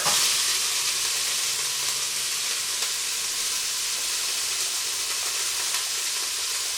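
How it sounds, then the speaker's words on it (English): Vegetables sweat on the sauté setting of an Instant Pot before pressure cooking, giving a loud, constant close-up sizzle and hiss with faint stirring. "You can sweat the vegetables before you go in the pressure cooker mode."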